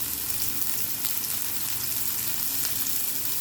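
Onions stir-frying in a pan for ham fried rice give a steady, close sizzle with a dense crackle that holds level the whole time and carries no talk.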